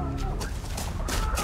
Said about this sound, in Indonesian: Aku harus bawa ayam ini kan ya